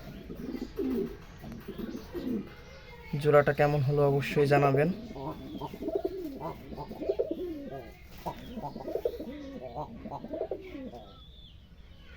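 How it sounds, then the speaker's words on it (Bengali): A freshly paired male and female Madrasi pigeon coo in soft, rolling bursts close by, while someone talks over and between the calls. "এটা হচ্ছে মাদ্রাজি কবুতর।"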